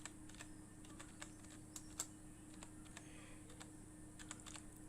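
Names typed into an Excel sheet on a computer keyboard, with quiet, irregular key clicks in quick bursts over a low steady hum, no voices.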